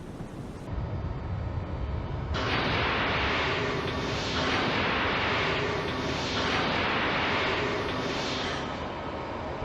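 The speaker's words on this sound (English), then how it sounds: "let's fire 4 of your torpedoes" Torpedoes launching from a submarine in the naval game War on the Sea, a loud broadband rushing and hissing that starts abruptly and surges in repeated waves, steady and close with no talk.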